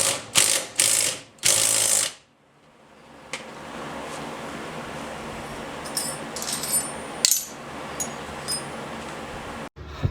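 Ratchet clicks and metallic tool handling while removing a part from Porsche 911/912 suspension, with bursts of ratcheting at the start, then quieter intermittent metal clinks against a steady background hum.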